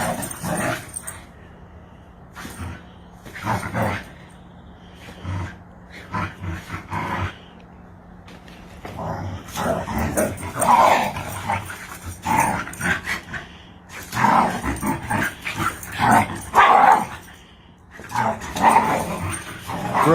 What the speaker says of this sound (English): It sounds like he's a pit bull. He just loves to growl.